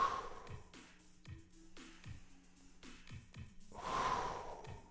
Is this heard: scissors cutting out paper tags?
no